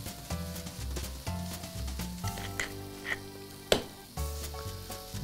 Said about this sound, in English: It's grilling nice and slowly. Zucchinis are grilling nicely.